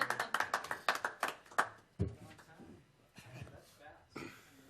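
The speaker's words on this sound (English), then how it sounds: "Let's give him a round of applause." A small group at a Lehi City Planning Commission meeting claps in a quick, brisk burst for about two seconds. The clapping trails off into chair shuffling, light thumps and scattered voices.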